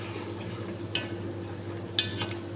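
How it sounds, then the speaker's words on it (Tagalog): Chicken yakhni pulao with yogurt being stirred in a pot: a couple of soft spoon scrapes rise briefly over a steady low kitchen hum, with no talking. "Syempre, haluin uli natin."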